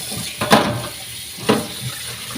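Water is poured into a pot for paksiw na tulingan in a home kitchen, two short splashing bursts standing out against a soft, sizzly background.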